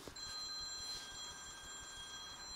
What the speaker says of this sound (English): That's my phone that's ringing.